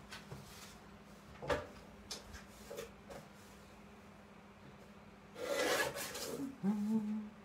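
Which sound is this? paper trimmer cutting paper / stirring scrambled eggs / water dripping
paper trimmer cutting paper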